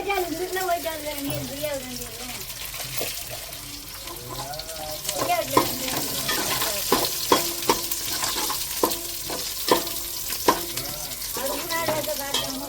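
Mustard seeds and fenugreek added to hot oil with cut onion for a fish curry tempering, a continuous sizzle with a run of sharp spoon taps against the pan in the second half, a voice talking over the start.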